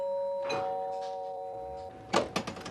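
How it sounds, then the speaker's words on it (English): A two-tone electronic doorbell chimes once, followed by faint shuffling and a few quick knocks or thumps close by. "The doorbell rang"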